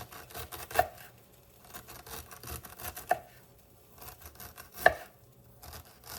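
A knife slices peeled ginger into slivers on a board, giving quiet repeated cutting strokes with three sharper knocks spaced a couple of seconds apart. There is no speech.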